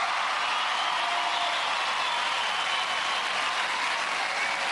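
A broad, steady roar of studio audience applause and cheering greets a contestant on the 1997 UK Gladiators TV show, dense and unbroken throughout.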